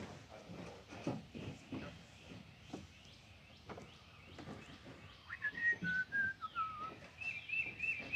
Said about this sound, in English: And the birds and everything else that's going on this morning.